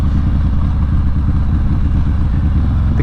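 A Harley-Davidson Softail Fat Bob with an aftermarket cam idles loud and close, its low, steady lumpy rumble filling the clip with no talk.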